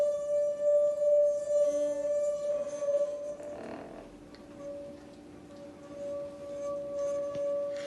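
A wine glass rung by rubbing its rim gives a steady, pure sustained tone that runs through the whole stretch, swelling and dipping slightly, with a brief scrape midway and quiet room noise beneath.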